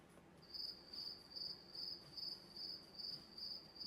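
Crickets chirp in a steady, regular pulse of high trills, repeating about twice a second, quiet and alone.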